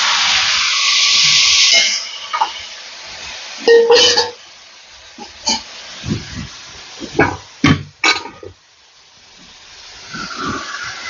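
Chopped citron pieces hit a hot pan with a loud burst of sizzling and hiss, then settle into softer crackles and clinks of stirring.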